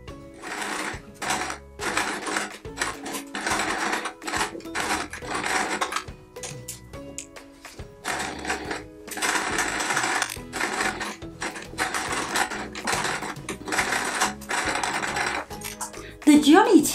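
A sewing machine stitches around the appliqued items carried by the Johnny Town Mouse figure on a Peter Rabbit patchwork quilt square, running in close, loud mechanical bursts with brief pauses between stitching runs.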